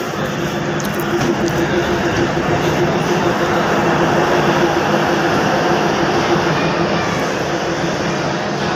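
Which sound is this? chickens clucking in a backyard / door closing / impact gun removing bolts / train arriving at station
train arriving at station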